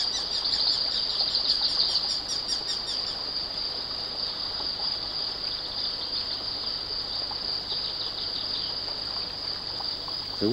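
Steady rushing of river water through a riparian forest gallery, a continuous broadband stream sound with faint bird chirps scattered over it, no voices.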